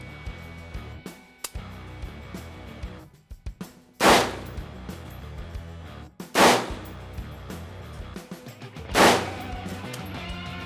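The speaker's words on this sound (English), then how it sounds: "Range is clear. Clear to fire." Three loud, sharp gunshots ring out on a shooting range, spaced a couple of seconds apart over a steady bed of background music, with no talking.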